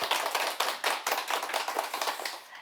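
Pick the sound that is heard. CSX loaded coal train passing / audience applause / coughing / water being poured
audience applause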